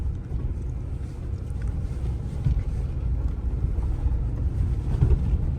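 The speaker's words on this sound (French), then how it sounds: "J'accélère juste un peu, hop, on monte." A 4x4 pickup truck climbs a sand hill, its engine a steady low rumble that swells slightly as it accelerates, with wind buffeting the microphone.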